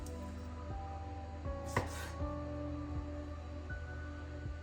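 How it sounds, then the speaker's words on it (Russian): Knife slicing the end off a pickled cucumber on a cutting board, with a few quiet, sharp taps of the blade in a quiet kitchen. "Я отрежу попку."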